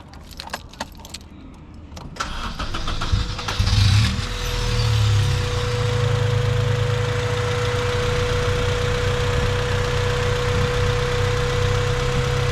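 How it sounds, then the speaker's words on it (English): A few jangling keys and clicks, then a Honda Civic engine starts and settles into a steady, even idle that continues to the end. "What you want to do is start the engine"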